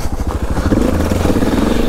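Motorcycle with a broken clutch being ridden off, its engine thumping in quick pulses, then revving into a louder, continuous mid-pitched drone close by.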